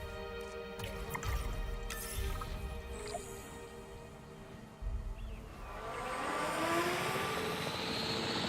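Capture team helicopter in Jurassic World Evolution 3 approaches, its rotor and engine rising to a steady whooshing roar after a stretch of mechanical game clatter and thumps.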